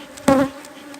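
Honey bees buzz at a beehive in one brief, close, droning burst that lasts about a quarter second against a faint background.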